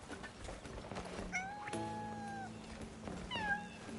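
A cat in the video game Crimson Desert gives several drawn-out, complaining meows, close and clear over faint background game sounds.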